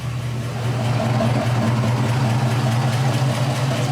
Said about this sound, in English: She's idling great.